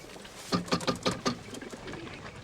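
Pigeons coo in a quick series of five or six soft, throaty pulses, then trail off into quieter murmuring, close and alone without voices.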